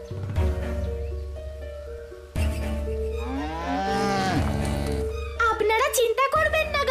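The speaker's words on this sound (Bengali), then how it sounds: "গাভীরা তো এখানেই আছে" Cows mooing loudly and close in a long drawn-out series, low bellowing calls overlapping, with music playing underneath.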